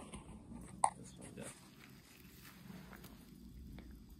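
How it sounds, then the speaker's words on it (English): A 7-month-old German Shorthaired Pointer puppy chews on something outdoors while snipe hunting, giving faint soft crunching and biting sounds with one sharp snap early, quiet and close amid light background noise. "The dog chewed that one up a little too much."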